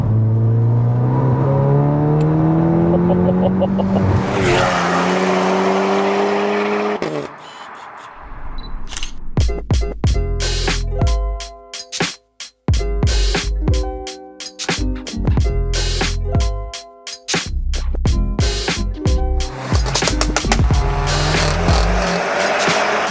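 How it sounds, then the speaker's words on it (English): A fully built Skoda Superb making over 600 bhp starts with a rising engine note and tyre noise, then breaks into loud, choppy revving bursts with sharp pops and gaps, close and without talk. "This is a Skoda Superb."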